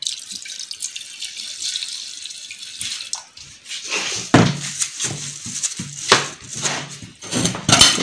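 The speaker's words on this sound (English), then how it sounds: "and then put a little petrol, and then to see what will happen to them. Let's put this petrol." Petrol poured over spark plugs and a magnet at home, trickling and splashing in a steady stream that breaks into irregular spatters and drips, close and fairly loud, with no talk.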